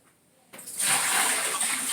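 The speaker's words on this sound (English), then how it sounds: "let me take some of this water out this bowl so nobody kicks it over." Water sloshing and gushing as it is scooped out of a toilet bowl during a wax seal replacement, starting abruptly after a quiet moment and continuing as a steady, close, fairly loud wash of splashing.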